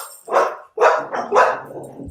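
A puppy barks several times in quick succession, short sharp yips close to the microphone, loud and alone with brief pauses between barks.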